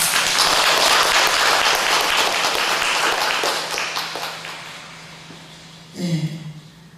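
Church congregation applauding during a service, dense clapping that swells loudly at first, then thins and fades over several seconds before a voice starts speaking near the end.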